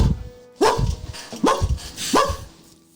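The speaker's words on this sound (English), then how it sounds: "There's a dog barking from the door directly in front of you from behind the door." A dog barks behind a door, three sharp barks spaced roughly evenly, moderately close but slightly muffled, with no talking.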